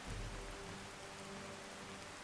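Steady rain falls across the wasteland in Fallout: Tale of Two Wastelands, a dense hiss of drops on surfaces with a low rumble at the start, heard alone with no voices.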